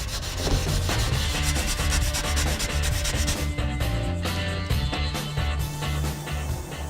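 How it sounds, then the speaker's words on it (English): Car bodywork on a 1970 Dodge Challenger gets wet sanded with 500 grit paper on a block, giving a loud, close, continuous rhythmic rubbing with regular back-and-forth strokes. "Then we'll grab a bucket, block, and some 500 grit to wet sand it down to absolute perfection."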